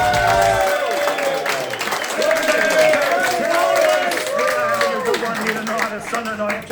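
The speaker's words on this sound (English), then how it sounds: "we'll do the old applause off the back of the break" An audience at a live Sunday night show in Charters Towers applauds steadily, with voices talking over the clapping.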